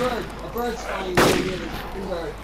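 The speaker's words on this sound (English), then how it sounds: "Alright, I'm opening fire on them." A burst of gunfire in the video game DayZ: one sharp, loud shot cracks out mid-clip over a background of voice-like chatter.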